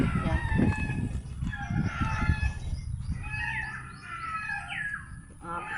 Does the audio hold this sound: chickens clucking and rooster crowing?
yes